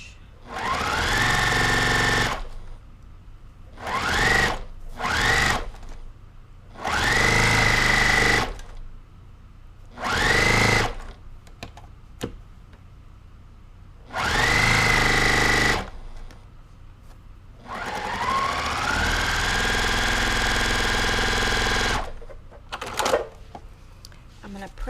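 Sewing machine stitching quilt block seams in short, loud, close bursts of rapid whirring, separated by quiet gaps, with someone talking in between.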